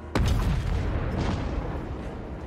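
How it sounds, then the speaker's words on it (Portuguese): Gunshot ricocheting off a wall in the Total War: Warhammer 3 strategy game, a sudden loud boom followed by a heavy rumbling tail that lingers under the busy game soundscape. "O tiro bateu na parede e ricocheteou, velho."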